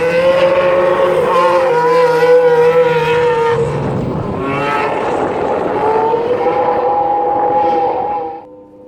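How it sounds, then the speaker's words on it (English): A 2018 Mercedes-AMG F1 W09 Formula 1 car's engine droning loudly nearby in a pit area, its tone holding steady, dipping and rising again as it rolls past before cutting off at the end. "la nuova V09 Mercedes sta entrando proprio davanti a noi"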